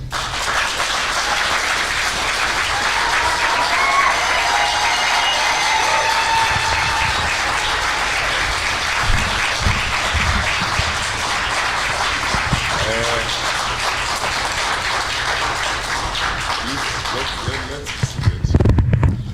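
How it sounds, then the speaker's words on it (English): Sustained, dense applause from a large audience welcoming a guest speaker at an event for Kenyans living in America in Baltimore, Maryland, steady and loud for most of the stretch before fading, with a voice speaking near the end. "I'm going to take this moment to ask you to give a hard applause"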